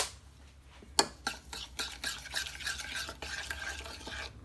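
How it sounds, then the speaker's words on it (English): Spices such as cayenne pepper, black pepper and garlic powder being stirred together into a jerky marinade, with a sharp clink near the start followed by steady scraping and mixing strokes close by, no talking. "Mix the ingredients together."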